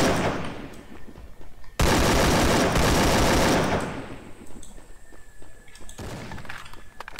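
Shotgun blasts in the Free Fire battle royale game, loud and dense, with a sustained burst of gunfire in the middle and scattered sharper shots before and after.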